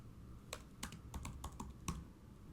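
Typing code on a computer keyboard while writing a Streamlit web app: a quiet, close series of sharp key clicks in irregular bursts, with no talk.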